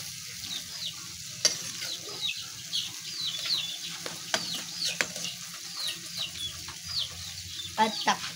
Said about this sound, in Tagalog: At haluin.